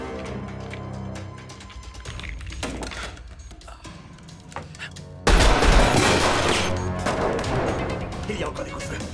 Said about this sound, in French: Il y a encore des coups de feu.